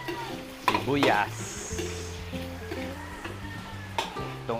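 Onion sizzles in hot oil in a pan along with garlic for pancit, a steady frying hiss under clattering stirs of a utensil, with a low hum running underneath, close up.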